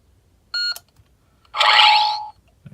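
Two electronic beeps from a lightsaber control board: a short high tonal beep, a pause, then a longer, brighter, buzzier beep, close and clear with quiet between.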